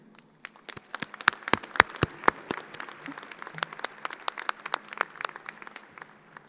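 Scattered applause from an audience at a fall engineering commencement ceremony: individual sharp claps ring out sparsely, building into a thin, uneven patter before thinning again, fairly quiet in a large hall.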